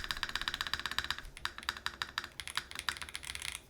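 Typing on a Razer BlackWidow V4 Pro 75% keyboard with Tech Amber switches: a quick, steady run of crisp, clicky keystrokes, close and fairly quiet, with a brief lull midway and no talking.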